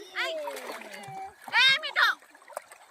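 People bathe in clear river water in North Bengal, with close splashes mixed among children's excited voices and shouts.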